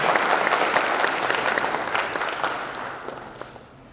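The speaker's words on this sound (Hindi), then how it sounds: "एक बार आप सभी लोगों से गुजारिश है कि जोरदार तालियां" Loud audience applause at a Hindi-language stage event, a dense burst of clapping from a large crowd that gradually thins and fades toward the end, with no clear speech.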